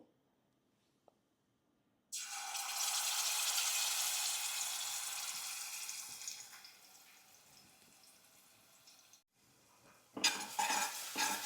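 Dabeli masala fries in a pan with a loud, close sizzle that starts abruptly and fades somewhat, broken by a brief pause before a spoon scrapes and stirs noisily.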